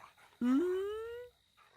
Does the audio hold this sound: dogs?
yes